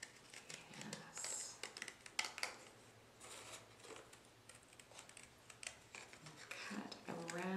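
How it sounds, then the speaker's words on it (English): Scissors snip repeatedly through paper, a series of crisp, uneven cuts and rustles close by, quiet and steady. "Cut around the lines, cutting your loaf out very carefully."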